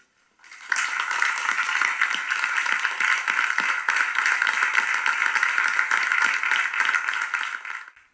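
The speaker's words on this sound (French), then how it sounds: "ça c'est les applaudissements de notre dernière représentation" Sustained, dense applause from a theatre troupe's final performance, played back as a recording in a home kitchen; steady, full clapping that starts abruptly and holds at an even level for about seven seconds before tapering off.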